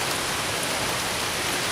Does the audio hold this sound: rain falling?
yes